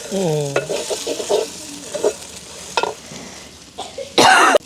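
Pirandai (veld grape) frying and being stirred in a pan, spoon scrapes and knocks over a low sizzle, with a brief cough and a loud sharp scrape near the end, close up.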